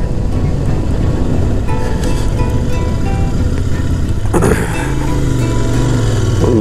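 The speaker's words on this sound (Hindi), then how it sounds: "आपकी बाइक की भी साउंड प्रॉपर खुल के आती है।" Royal Enfield Interceptor 650 motorcycle cruising on a highway, its steady engine drone mixed with rushing wind noise, continuous and close throughout with a brief gust midway.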